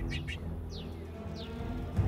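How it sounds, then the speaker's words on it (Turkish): Bird song outdoors: a few short, clear chirps and downward whistles, fairly faint, set over a quiet steady background hum. "Bak kuş ötüyor."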